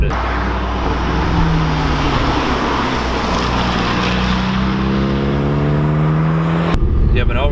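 An APR-tuned Volkswagen GTI Mk6 is driven hard through a corner, its engine droning loudly with a tone that climbs and settles as it rolls through the turn. The sound cuts off abruptly near the end.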